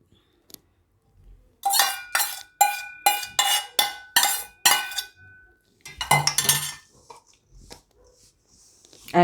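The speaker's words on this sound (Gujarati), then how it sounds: "આ રીતે મિક્સ કરી લેવાનું આપણે." A spoon scraping and clinking against a metal pot while stirring milk and sugar together, about eight sharp, evenly spaced clinks followed by a rougher scraping flurry, with a dog barking in the background.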